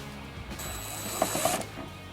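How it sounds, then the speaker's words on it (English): Ratchet working 10mm taillight screws loose on a 2019 Subaru Forester, a short burst of quick mechanical clicking close by, alone. "we're going to be removing these two 10mm screws"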